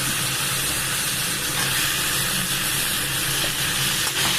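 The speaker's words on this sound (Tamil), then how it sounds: "எண்ணெய் ஊற்றி வெங்காயம் தக்காளி பச்சை மிளகா கருவேப்பிலை இது மட்டும் போட்டு நல்லா வதக்கியிருக்கேன்" Onion, tomato, green chilli, curry leaves and drumstick sautéing in hot oil, a dense continuous sizzle with steady hissing throughout and a few soft stirring clicks near the end.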